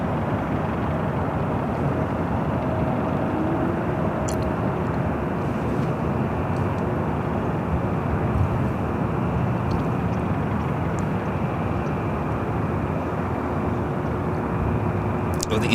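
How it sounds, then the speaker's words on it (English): A Delta Airlines A321 arriving at LAX from Detroit makes a constant, fairly loud engine roar that stays level and unbroken for the whole stretch, with no voices over it. "Next arrival is that flight coming up from Detroit, Delta Airlines flight 634."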